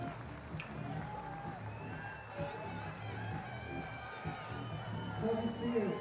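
A Hungarian crowd at a STIHL Timbersports World Trophy competition cheers and shouts for an athlete, a dense, steady roar of voices and whoops that swells louder near the end, with scattered applause mixed in.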